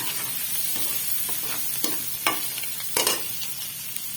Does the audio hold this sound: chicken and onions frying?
yes